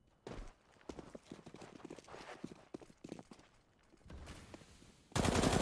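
Gunshots in the Counter-Strike video game on the Dust2 map: several quick bursts of gunfire with other game sounds, and a loud sustained noise at the end.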